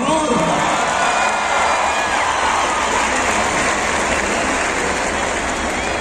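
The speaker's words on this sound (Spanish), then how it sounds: "Un aplauso para el Oro, por favor." Loud, dense crowd cheering and applause filling a jaripeo arena at the Plaza Monumental in Aguascalientes, a steady roar of clapping and shouts sustained throughout.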